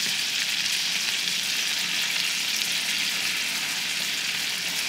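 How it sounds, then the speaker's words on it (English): Ribeye steaks fry in butter in a skillet, giving a loud, steady hiss and crackle of sizzling fat that holds constant throughout without talk. "I'm making a mess and splatting butter"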